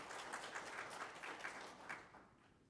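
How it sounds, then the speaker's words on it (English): Audience members clap at a college board of trustees meeting, a brief, modest patter of applause from a small group that rises and then tapers off over a couple of seconds, heard at a moderate distance with no talking over it. "Yeah, you can clap, that's okay."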